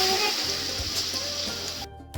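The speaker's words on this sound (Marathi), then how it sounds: "आता टाकून घेते गरम पाणी." Hot water poured into a simmering curry of sprouted moth beans (matki) in oil, a steady rushing, sizzling splash that runs continuously for about two seconds, then cuts off abruptly.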